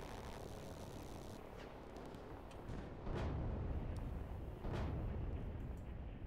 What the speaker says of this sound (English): The explosions we're hearing are just a handful of helicopters exploding on both sides.